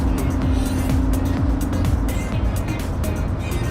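A Chevrolet Corvette C8 rolls off a shop lift, its engine giving a steady low hum with a faint tonal drone and light tire noise, close by and with no one talking.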